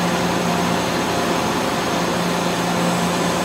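The spindle of a Mazak VCN 510 CNC vertical machining center runs at speed, giving a steady broadband whir with a constant tonal hum, loud and close throughout without any voices.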